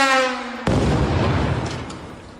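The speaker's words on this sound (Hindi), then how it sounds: "इस हमले के बाद भी इलाके में धमाकों की गूंज" A heavy explosion from an Iranian missile strike in a residential area of Sulaymaniyah, Iraq, a sudden deep boom cutting in after a brief tone and rumbling away with a long, fading echo.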